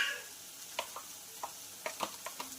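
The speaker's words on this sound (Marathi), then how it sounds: "छानपैकी आपला मसाला फ्राय झालेला आहे" Onion-spice masala fries in a pan for a spicy village-style dry chicken dish. A faint, soft sizzle carries a few light ticks and pops, with occasional stirring clicks.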